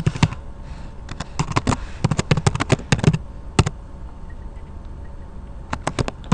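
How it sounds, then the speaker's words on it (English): Someone types on a computer keyboard while entering Boston Red Sox postseason statistics into an Excel spreadsheet, a close run of crisp, uneven key clicks in quick bursts with a short pause midway, and no voices. "So I'm going to click here and start typing"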